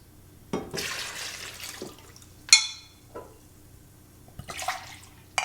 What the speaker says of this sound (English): Now we're putting in 3 cups of soy sauce.